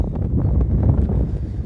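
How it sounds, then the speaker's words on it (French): Wind buffets the microphone on a snowy mountain hike around Pic du Midi d'Ossau, a loud low rumbling roar that fills the whole stretch with no voices. "il y a du vent, je sais pas si on va m'entendre."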